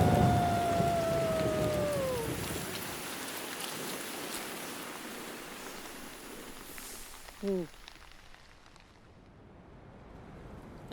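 Rain falls steadily as a broad hiss with distant thunder, while a voice speaks at the start; the rain eases and fades toward the end.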